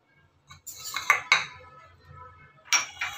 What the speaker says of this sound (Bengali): আমি এবার মেখে নিই একটা গামলা নিয়ে